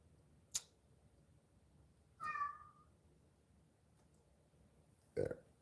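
A cat meows once, a short tonal call in a quiet indoor room, set between a couple of sharp clicks and knocks. No one speaks.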